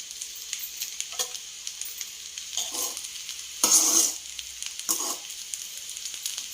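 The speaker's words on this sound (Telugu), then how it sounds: "కొంచెం స్ప్రింగ్ ఆనియన్స్ వేసుకుందాం." Mushroom fried rice with spring onions is stir-fried in a pan. Soft sizzling runs beneath repeated close scrapes and tosses of a spatula, with one louder burst of clatter midway.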